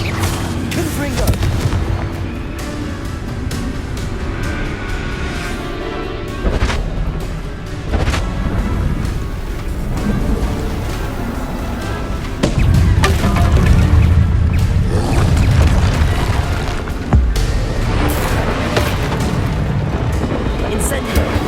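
Confringo explosive spell blasts in the Hogwarts Legacy video game, repeated loud booming bursts and crashes at irregular intervals over busy combat noise.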